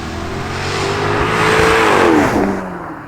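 A 550-horsepower Jaguar XK-RS pulls hard at about half throttle, its engine note rising to a loud swelling roar that peaks and then eases off, close and alone without talk.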